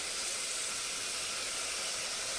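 Finely chopped large onion hits hot oil while cooking a spicy mutton dish, giving a steady, loud, broadband sizzle that hisses evenly throughout with no voices.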